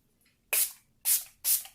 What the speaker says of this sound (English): I'm going to set everything down real quick with the Revolution Conceal and Define Infinite Setting Spray.